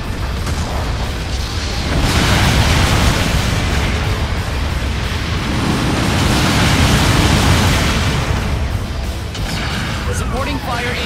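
Explosion of a destroyed mobile suit in the robot battle game Mobile Suit Gundam Battle Operation 2, a broad loud rumbling blast that swells and lingers for several seconds amid dense battle noise and game voice callouts.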